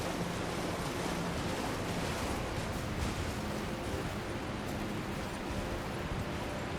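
Steady, dense rushing of a waterfall in the video game Elden Ring: Shadow of the Erdtree, a constant broadband roar with no breaks, fairly loud and close, with no speech over it.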